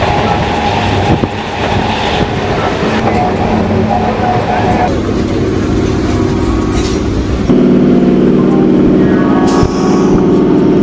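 A local suburban train near Howrah rumbles and clatters loudly close by, with a rolling wheel-on-rail rhythm and a deeper change in tone partway through, and voices faintly in the background.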